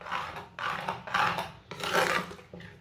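Egg and daal batter is stirred briskly in a bowl for breakfast, four or five rough scraping strokes in a steady rhythm, close up with no talking.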